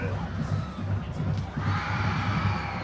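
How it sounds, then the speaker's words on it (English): A high school football cheering section for the Perry Panthers roars from across the field, a distant, sustained crowd cheer with shouts, while a commentator talks over it. "Makes the Perry Panthers cheering section across the way happy. They are jumping up and down, excited for their Panthers."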